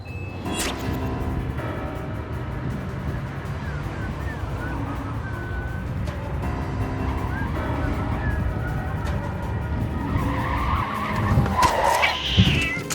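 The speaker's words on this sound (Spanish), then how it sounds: "No podía creer su mala suerte, atropellar un gato a las 2 de la mañana." A car skids on pavement at night and strikes a cat, with a rough, sustained tire screech and engine noise building to a louder burst near the end, with no talking.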